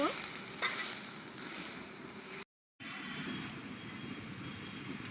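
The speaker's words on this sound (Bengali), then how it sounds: "ঝোলটা টকবক করে ফুটছে" Fish curry broth with potatoes bubbling and boiling in a pan, a steady close sizzling simmer with a brief silent gap midway, no voices.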